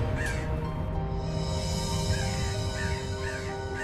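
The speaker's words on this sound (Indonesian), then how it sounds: "Burung gagak. Ini suara burung gagak." Crow cawing repeatedly in a steady run of harsh calls, fairly close and clear over a constant low background hum, with no voices.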